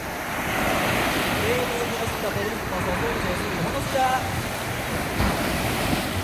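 Ocean waves surge and break at Songjeong Beach in Busan, where surfers are out. A continuous, loud wash of surf mixes with wind buffeting the microphone, and brief voices are heard faintly in the background.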